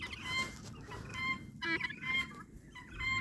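Several chickens and guinea hens cluck and squawk in irregular bursts, nearby and fairly loud, with quiet gaps between calls.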